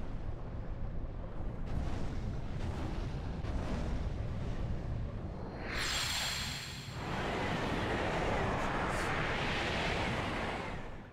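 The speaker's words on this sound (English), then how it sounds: "It's working! Monstro's gonna sneeze!" A deep, roaring rumble builds and then erupts into a huge, bright blast that sprays out and lingers: the giant whale Monstro sneezing in Kingdom Hearts Re:Chain of Memories.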